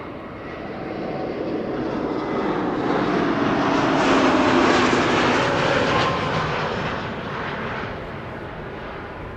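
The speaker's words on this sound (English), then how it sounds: "Next up, Air Transat A321neo arriving from Toronto in Canada." Air Transat Airbus A321neo jet arriving at Amsterdam Schiphol from Toronto roars steadily overhead. Broadband engine noise swells to a peak midway, then eases off as the aircraft passes.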